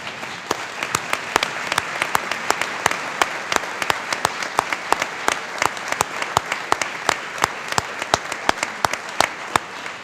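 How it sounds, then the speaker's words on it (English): An awards-night audience applauds the winners, a sustained run of clapping with sharp, distinct hand claps standing out over a softer background patter at an even level throughout. "we can applaud all of those winners"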